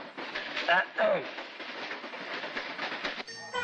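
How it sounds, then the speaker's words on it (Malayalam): Madras Mail passenger train rolling into platform 6 from Trivandrum Central at a station, a steady rumble of rail wagons with a couple of brief whistle-like tones early on and talk mixed in. "Train number 20, Madras Mail, coming from Trivandrum Central, is now arriving on platform number 6."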